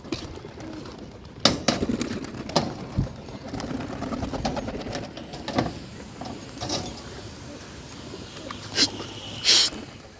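Pigeons cooing outdoors amid rustling, clattering handling sounds and wing flaps, with several louder bursts standing out from steady background noise.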